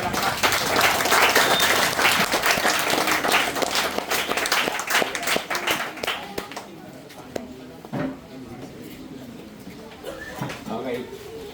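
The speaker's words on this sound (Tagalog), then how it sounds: "palakpakan pa natin ang Panginoon natin" A church congregation claps loudly and steadily in praise, the dense applause thinning after about six seconds into scattered claps as voices carry on.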